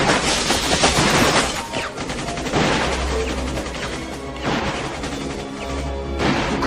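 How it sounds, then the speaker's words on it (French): Gunfire and smashing glass from an action film, with shots fired at windows amid a dense, loud, continuous barrage of bangs and crashing debris throughout. "Tire sur les fenêtres!"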